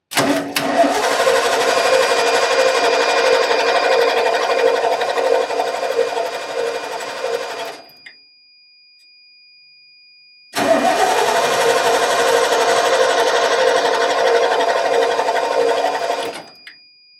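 A 1989 Ford F150 pickup, a barn find with old fuel in it, cranks hard in two long bursts of about eight and six seconds, loud and steady, with a short silent pause between and no start.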